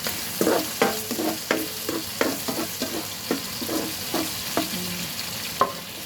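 Onions and garlic sautéed with meat in a pan hiss loudly, broken by a rapid series of spatula scrapes and knocks against the pan. The strokes repeat at a brisk, uneven rhythm up close, with no talking.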